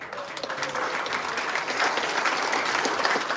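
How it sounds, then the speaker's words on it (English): A crowd applauds steadily at a Pride Month proclamation signing, many hands clapping in a dense, sustained wash that holds at an even level throughout. "let's give them a round of applause"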